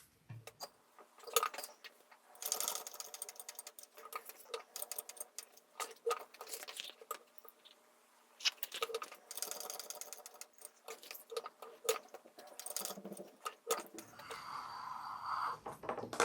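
A sewing machine stitches a tag onto a fabric wallet in short, uneven bursts of rapid mechanical chatter, separated by brief pauses and light handling clicks, fairly close and moderately loud.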